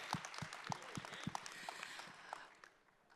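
A summit crowd breaks into cheering and applause after a former New York Yankees and Texas Rangers player is introduced, with sharp repeated claps over a steady wash of crowd noise that fades toward the end.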